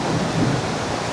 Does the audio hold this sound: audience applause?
no